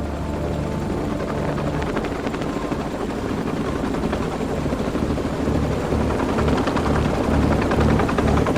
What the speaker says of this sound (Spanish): pudo escuchar que los helicópteros caían